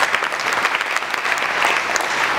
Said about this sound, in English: Big round of applause for Matt and his top tips.